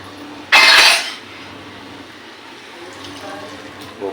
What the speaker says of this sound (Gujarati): થોડુંક પાણી નાખવાનું, પાછું ગ્લાસ ભરીને નાખવાનું, પાછું ગ્લાસ ભરવાનું